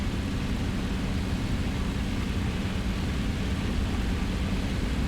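A propeller aircraft's engine roars at a steady full-power drone during take-off in War Thunder, broadband and constant with no change in level, heard alone.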